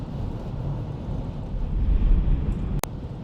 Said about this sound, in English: The wind is quite noticeable up here